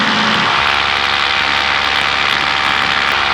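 A paramotor engine drones loudly and continuously in flight, a close, steady propeller roar with buzzing harmonics and rushing wind throughout.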